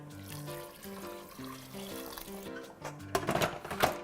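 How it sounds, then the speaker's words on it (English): Water trickles and splashes into a stew of vegetables and homemade stock in a pressure cooker, faint beneath soft background music, with a louder, brighter pouring splash near the end. "Add some water."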